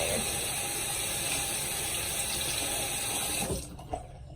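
Tap water runs steadily from a faucet to wet a makeup sponge, a close, continuous splashing stream that cuts off near the end, followed by a couple of faint bumps.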